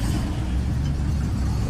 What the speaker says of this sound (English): you can hear the pure sound of engine exhaust